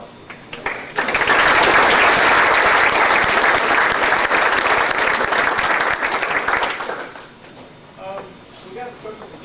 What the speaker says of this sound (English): So big round of applause for the parents.